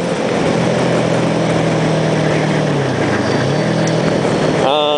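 A Kawasaki Ninja motorcycle engine drones loud and close while riding, with a steady hum that dips and rises in pitch as the throttle changes, plus rushing wind noise.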